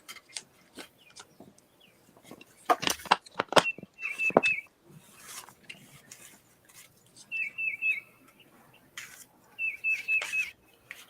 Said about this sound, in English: That sounded like that bird just came closer, Candy.